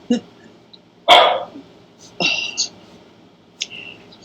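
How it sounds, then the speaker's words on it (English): A dog barks three or four times at close range, sharp single barks with pauses between them. "And Matt, that's only my dog."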